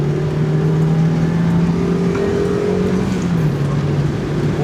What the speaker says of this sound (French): puis on entend bien le turbo, et on ronronne bien